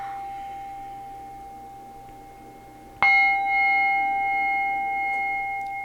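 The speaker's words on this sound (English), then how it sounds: "We're going to clear those energies with my beautiful protection bell here." A protection bell is struck once partway through and rings out with a clear, sustained, slowly fading tone over a quiet background, while the hum of an earlier ring is still dying away.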